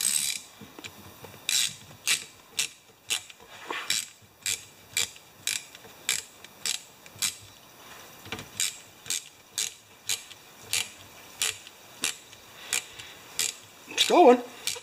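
A wrench ratchets on a part of a commercial Gravely 21-inch mower while it is tightened and screwed on, giving a close, steady series of clicking strokes about one per second, then a brief clatter at the end.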